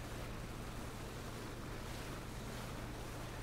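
A boat powers across water in PUBG, giving a continuous dense rush of spray and wind over a low engine drone. The sound stays steady and fairly quiet with no voices.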